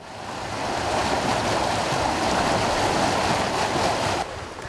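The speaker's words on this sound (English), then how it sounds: "That is the sound of raw sewage spewing out of a pipe into a wash" A loud, continuous rushing gush of raw sewage spewing from a pipe into a wash swells in over the first second, holds steady, then drops to a softer flow near the end.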